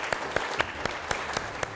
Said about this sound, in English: a round of applause for our artist, Isobel Peachy